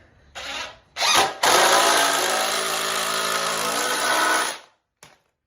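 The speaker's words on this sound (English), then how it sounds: "I use a 3-inch deck screws to screw these in" A power drill drives 3-inch deck screws into wood for a blanket ladder: two short spins, then a loud, steady whirring run of several seconds that cuts off, with a brief final blip.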